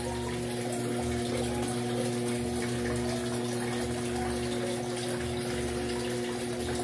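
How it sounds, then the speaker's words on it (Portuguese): An Electrolux 8 kg washing machine fills with water in a steady, continuous rush with a low hum underneath, close by and unbroken, with no talking. "Até que essa máquina aqui, ela cai água legal, gente."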